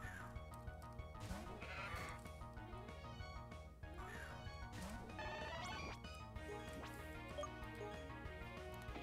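Sheep Pokemon cry in the game Pokemon Uranium: faint synthesized bleats sit inside a busy battle soundtrack with rhythmic music and sound effects, and no speech is heard.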